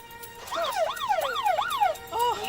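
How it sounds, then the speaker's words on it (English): A UK ambulance siren wailing in fast rising and falling sweeps, fairly faint and at a middle distance, with a brief different tone at the end. "So we have an ambulance coming to you as fast as possible"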